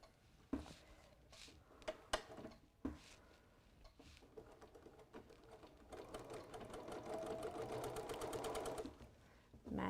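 A sewing machine runs a quarter-inch seam on quilting fabric, starting in short bursts and then settling into a steady, fast stitching hum, close by with a few handling knocks.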